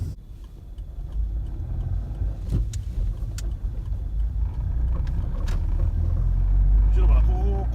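A 14-year-old Suzuki Swift with a transmission fault accelerates through a left turn, its steady engine and road rumble building from the cabin, with a few brief clicks and knocks near the end.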